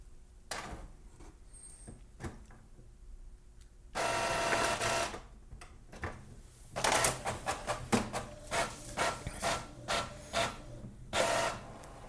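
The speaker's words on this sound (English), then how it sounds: "make sure you have some paper in your printer and press the print button" An Epson WorkForce WF-2960 or WF-2860 inkjet printer runs a print job: a short mechanical whir, then a longer buzzing feed, followed by a rhythmic series of rapid clacking print-head passes.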